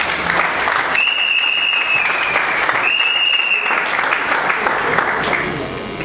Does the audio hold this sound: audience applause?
yes